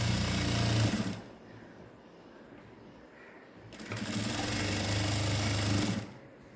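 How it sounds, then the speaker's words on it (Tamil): Sewing machine stitching along folded ladies' pant fabric, a loud close whir in two bursts separated by a quieter gap of a few seconds. "லென்த்தியாக 2 உள்பக்கத்தையும் சேர்த்து ஃபோல்ட் பண்ணி தைக்க போகிறோம்"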